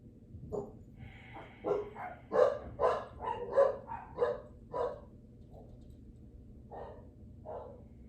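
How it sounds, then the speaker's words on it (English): Several dogs bark in a quick, uneven series, somewhat distant and muffled, with yips between the barks before they taper off. "I don't know if you can hear my dogs barking"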